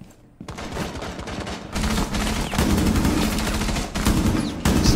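Rapid automatic gunfire from a Rainbow Six Siege match, loud and close, crackles in sustained bursts with brief gaps between strings of shots and no talking over it.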